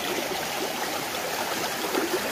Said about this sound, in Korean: 여기는 일급수 계곡입니다.